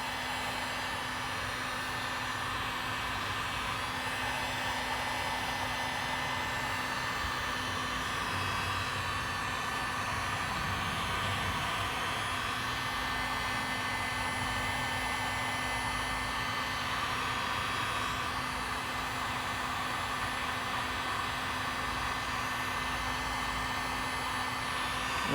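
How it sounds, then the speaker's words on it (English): A heat gun blows steadily on waterproof fog light wire harness connectors, a continuous airy whoosh with a faint motor hum that stays level from start to finish, close and fairly quiet. "So I'm just gonna turn on my heat gun and show you what I mean."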